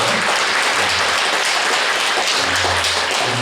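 A church congregation at a Sunday service applauds steadily, a dense wash of many hands clapping throughout, with a low murmur of voices underneath.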